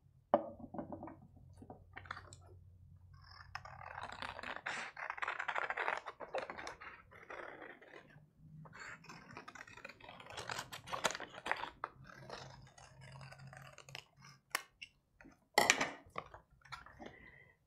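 A piece is cut out of a cardboard tube with scissors or a craft knife: a run of quiet scraping, crinkling and clicking cuts and handling noises in a quiet room, with no speech.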